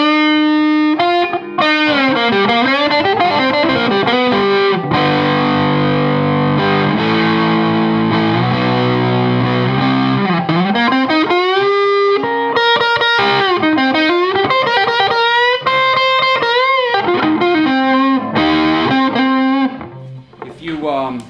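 An electric guitar with a humbucker pickup plays through the gain channel of a Frugal Amps Hotcat replica amplifier, producing a loud, sustained, distorted tone with bending and shifting notes and chords, played continuously.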